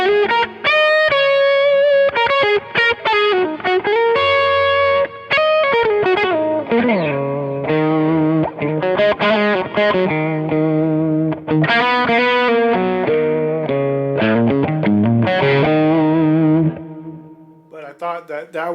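Telecaster electric guitar on the bridge pickup playing a smooth, sustained lead line through an Axe-Fx III, with mild distortion and echo; notes ring out clearly and fade into a quiet tail at the end.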